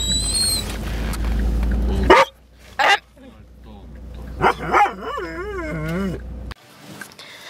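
A dog barks and whimpers in a few short bursts with howl-like rising tones, close and loud, mixed with people speaking nearby and some background noise.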